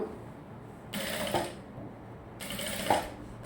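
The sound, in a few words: sewing machine stitching a gown's neckline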